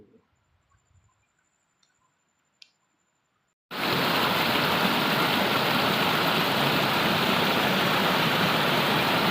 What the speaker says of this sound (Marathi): आता पाऊस पण आलेला आहे जोरात